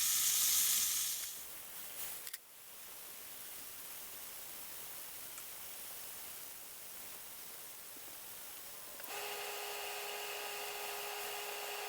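Pork chops sizzle steadily in a hot pan, a continuous close hiss with a short clatter near the start and a brighter, louder frying tone in the final seconds.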